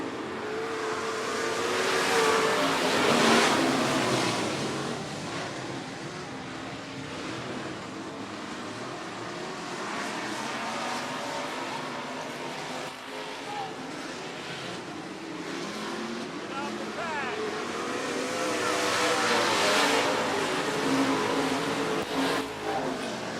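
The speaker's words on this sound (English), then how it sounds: "here we go, street stock racing." A field of street stock race cars circles the 105 Speedway track, a continuous heavy engine roar that swells as the cars pass close, dips slightly midway, then builds again, with no talk.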